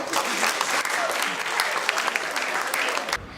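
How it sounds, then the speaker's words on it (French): An audience at a graduates' ceremony applauds a master's graduate in archaeology, with a dense, steady roar of clapping that cuts off sharply at the end. "Merci de l'applaudir."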